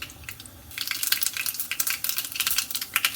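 Mustard seeds fry in about two tablespoons of hot olive oil for a sambar garnish, crackling and popping rapidly and close up over a steady sizzle once they hit the pan.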